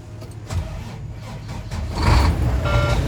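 A truck engine boosted by its own batteries plus a jumper pack catches and starts, a low rumble swelling into a louder, rougher roar partway through, with no talking.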